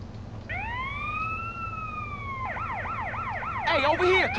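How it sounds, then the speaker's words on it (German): Ambulance siren in the video game GTA San Andreas, a loud wail sweeping up and holding before switching to a fast repeating yelp, growing louder near the end. "dieser scheiß Krankenwagen hätte jetzt Sweet beinahe umgefahren"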